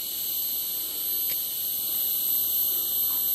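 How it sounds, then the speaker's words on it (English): Cicadas in a Bornean rainforest, a dense, steady high-pitched drone holding level throughout with no pauses, loud and continuous over faint low background hiss. "must be a million varieties of cicada"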